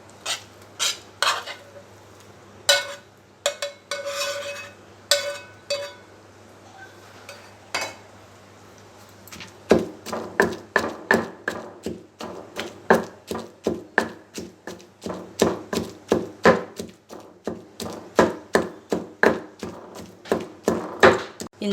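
Fried gongura leaves and coconut are pounded and ground in a stone mortar for a rustic chutney. A few scattered knocks come first, then a steady run of sharp pestle thuds and scrapes, close and loud, with no talking.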